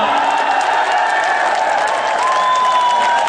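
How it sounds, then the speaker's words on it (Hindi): A large audience applauds steadily at a Hindi poetry recital, the dense clapping holding at an even, loud level throughout, with faint tonal sounds threading above it. "तालियां आपने थोड़ा पहले बजा दी"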